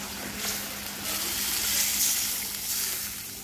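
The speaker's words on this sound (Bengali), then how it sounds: "এটা ভালো করে কষাবো, তারপর ঝোল দিয়ে দিব।" A pan of bottle gourd greens sautés with a continuous soft sizzle that swells and eases gently, with no voices over it.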